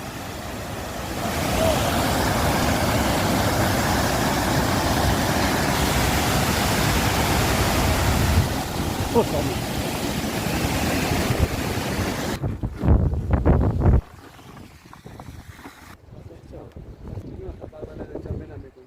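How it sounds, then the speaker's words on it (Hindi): A mountain stream at Sach Pass roars and rushes loudly and steadily for most of the stretch, then drops abruptly to a quieter wind-like rumble near the end. "इस पानी की गड़गड़ाहट इसका जो म्यूज़िक है मुझे ऐसा लग रहा है जैसे हॉरर मूवी हो"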